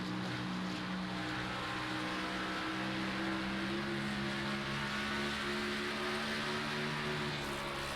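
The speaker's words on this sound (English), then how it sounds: "You hear those RPMs jumping around when they come up out of the corner." Race car engines in a virtual racing game at Dover, steady dense roar with wavering, fluctuating RPM tones as cars power out of a corner, continuous and fairly loud throughout.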